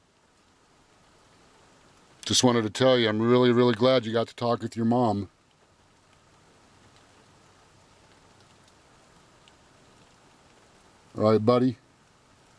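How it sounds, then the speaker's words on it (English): Steady rain falls outside as a faint, even hiss through the whole stretch, with a voice talking over it in two separate bursts. "It's raining out, so it's kind of noisy."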